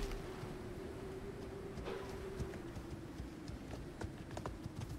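Horse hooves from riding in an open-world survival video game, a soft rhythmic clip-clop of steady footfalls over a low humming background, fairly faint and continuous.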